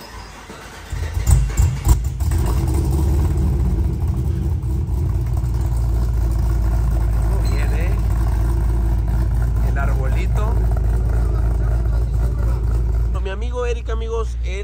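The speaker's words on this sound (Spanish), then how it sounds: "vamos a escuchar el motorón" Exhaust of a very fast Chevrolet Camaro revving hard, a loud, deep, sustained roar that kicks in after a brief quieter start, with voices talking over it at times.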